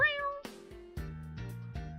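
Cat meowing in the Ace Attorney video game: a high meow followed by several shorter repeated meows, close and clear, over steady game background tones.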